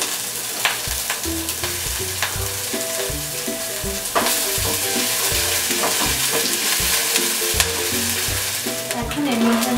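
Asafoetida, ginger and green chilli frying in oil while being stirred, a loud continuous sizzle broken by repeated scraping strokes of a spoon against the pan, no talking.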